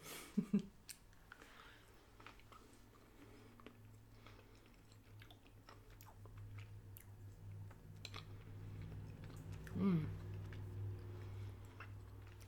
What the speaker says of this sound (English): flavors evolve as you chew on the product